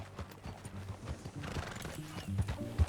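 Rhythmic clip-clop of horse hooves galloping at a steady pace in the video game Red Dead Redemption 2, moderately loud, with a soft thudding cadence and no voices.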